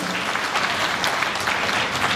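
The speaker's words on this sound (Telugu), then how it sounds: "చప్పట్లు కొట్టండి గట్టిగా." An audience claps loudly and steadily, a dense wash of continuous applause with no talk over it.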